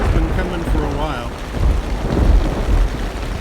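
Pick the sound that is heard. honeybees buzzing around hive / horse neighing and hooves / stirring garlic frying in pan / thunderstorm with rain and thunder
thunderstorm with rain and thunder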